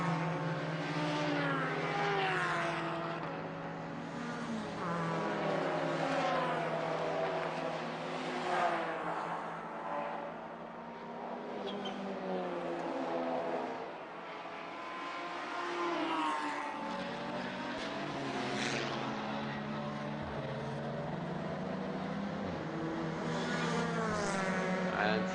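Race cars including a BMW and a SEAT lapping a circuit in a two-hour endurance race, a continuous droning engine roar with rising and falling revs as cars pass, heard from a distance without talk.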